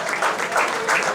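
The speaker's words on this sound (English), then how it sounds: "We give a big hand of applause to Mr. Vijay Sardesai" Short burst of applause for the chief guest, Mr. Vijay Sardesai, at an RFC India 2019 off-road event in Goa, a dense patter of clapping hands swelling in waves with a faint voice underneath.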